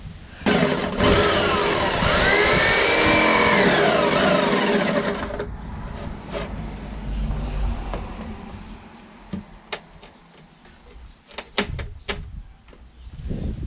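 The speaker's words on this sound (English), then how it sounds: "Jigsaws scare me so much" A jigsaw cutting wood for cupboard doors in a van build, a loud buzzing, rising-and-falling saw whine for about five seconds, followed by quieter handling, knocks and clatter.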